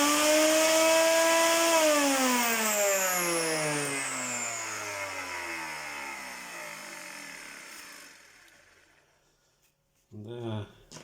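Vacuum cleaner motor with an imbalance fault, likely a worn bearing, spins down after being switched off: a loud whine with stacked harmonic tones sweeps steadily lower and fades over about eight seconds, then a brief burst of noise follows after a pause.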